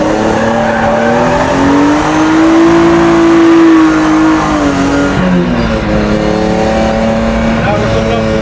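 A car is driven hard around a racing track, its engine revving loud and close with rising and falling pitch while the tires squeal through continuous drifting corners.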